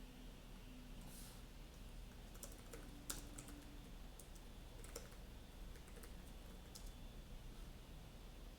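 Command typed on a computer keyboard at an Ubuntu machine, a quiet steady patter of key clicks with a few sharper taps, heard alone against faint room hum.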